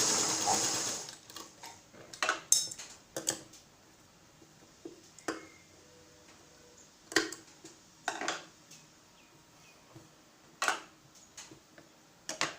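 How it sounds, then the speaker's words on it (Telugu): Sewing machine stitching a normal blouse, heard as short irregular bursts of rapid mechanical ticking separated by quiet pauses while the cloth is shifted; close and moderately loud, with no talking. "ఇట్లా క్లాత్ జరుపుకొని కుట్టుకోవాలి"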